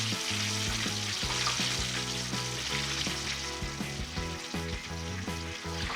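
Pickle-brined chicken drumsticks fry in hot oil with a steady, dense crackling sizzle that holds loud and close throughout, over a low musical backing.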